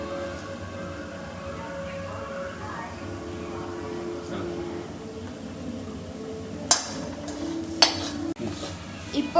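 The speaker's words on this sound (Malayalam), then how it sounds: "ഇനി നമുക്കൊരു ടീസ്പൂൺ മഞ്ഞൾപ്പൊടി ഇട്ട് പച്ചമണം മാറുന്നത് വരെ ഇളക്കി കൊടുക്കാം" Onion, chilli, ginger, garlic and turmeric are stirred in a pan, a soft ongoing scrape and faint sizzle with a few sharp utensil clinks against the pan near the end.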